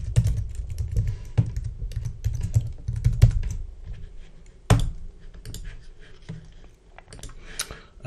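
A password is typed on a computer keyboard in quick, irregular bursts of close, sharp key clicks, pausing briefly before a few final strokes and a louder keypress.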